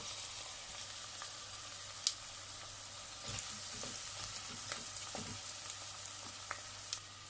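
Onions fry well browned in a pan for an olive-oil black-eyed pea dish, a faint, steady sizzle with scattered light pops and a few soft stirring scrapes, no voices.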